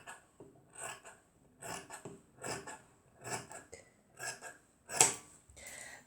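Sharp scissors snip through lining fabric for a DIY waist bag, a steady run of close, crisp cuts, about two per second, with faint blade scraping between them.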